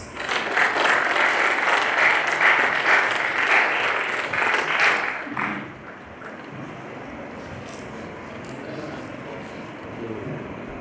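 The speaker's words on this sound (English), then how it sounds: "welcome him with a big round of applause" A round of applause at an MOU signing ceremony between the Hare Krishna Movement Hyderabad and Woxen University: dense, sustained clapping from the audience for about five seconds, then it dies away to quiet room noise.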